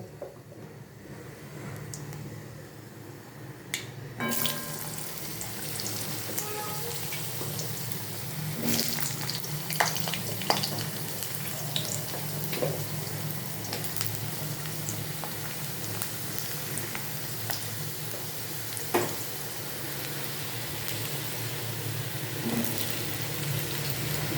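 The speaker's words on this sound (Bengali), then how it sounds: "তখন তার মধ্যে আগে থেকে টুকরো করা আলুগুলো অ্যাড করে দেবো" Cut potato pieces, added to hot oil with five-spice for an okra sabzi, fry in a pan with a steady, close crackling sizzle that starts after a short quiet moment and continues evenly throughout.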